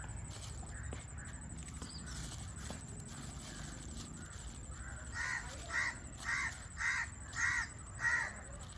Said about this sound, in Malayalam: കാക്ക പിന്നെയും വന്നു.